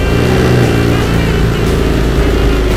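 A motorcycle engine runs loud and steady at about 3,000 RPM, a constant close-up drone with no talk over it, during a phone holder vibration test.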